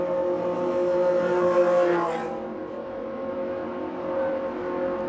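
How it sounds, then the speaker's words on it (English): An IndyCar race car comes into pit lane at the Detroit Grand Prix street race, its engine whining and revving loudly as it nears, then dropping to a lower, steadier drone as it slows. "As we watch Dixon come into pit lane, let's see if he does any wing changes"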